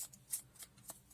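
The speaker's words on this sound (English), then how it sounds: "you can crumple this just to give it a little more, get the crumble in there." Paper being crumpled and distressed to shape a scroll: a few quick, soft crinkling bursts, close and faint, with quiet pauses between them.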